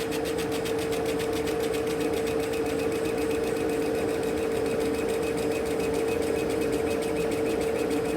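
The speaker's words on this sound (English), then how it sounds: "I configured the laser head over my marking center on the leather strap" A laser engraver marks a leather strap, a steady mechanical buzzing hum with a rapid regular pulse and a constant tone, continuous and close with no talking.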